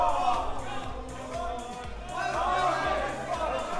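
Crowd at a Tetris world championship (CTWC DAS 2025) erupting into loud cheers and excited hubbub that swells and stays strong, with commentators talking over it.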